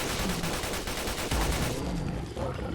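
Rapid automatic fire from a lore-friendly modded submachine gun in Fallout 4, a dense continuous stream of close, loud shots aimed at a Deathclaw, pausing briefly near the end before firing resumes.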